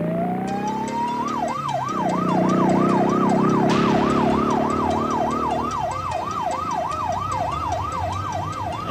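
A police car siren wails loudly in a fast, repeating up-and-down yelp close by, with a vehicle engine rumbling underneath and no speech.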